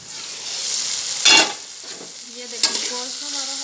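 Chicken with a splash of vinegar cooks in a pan, making a close, steady sizzle broken by a couple of sharper bursts of stirring and scraping. Faint tonal hum sits underneath, and no one speaks.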